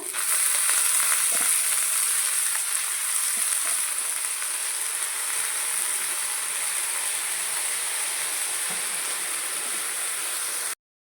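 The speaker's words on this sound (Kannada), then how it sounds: "ಹಸಿ ಖಾರ ಹಾಕ್ಕೊಂಡು ಒಂಚೂರು ಫ್ರೈ ಮಾಡ್ಕೊರಿ" Green chili paste and dill sizzling steadily in a hot pan for a North Karnataka dill-leaf palya, a continuous loud frying hiss with faint stirring, no voices.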